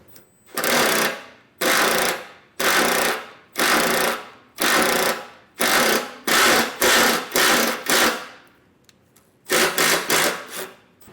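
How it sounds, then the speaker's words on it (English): A self-tapping screw driven into a 2022 Ford F-250 truck frame with a power driver, heard as about ten loud, close bursts of whirring and grinding, each roughly half a second long, with short pauses between them. "I have a self-tapper, and I'm going to self-tap this into our frame."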